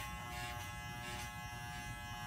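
Electric hair clippers fitted with a guard run steadily at close range, a constant even motor buzz with no breaks and no speech.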